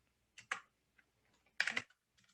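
Keys clack on a computer keyboard in short bursts, a couple of single taps and a quick run of strokes, close-miked and crisp in an otherwise quiet room.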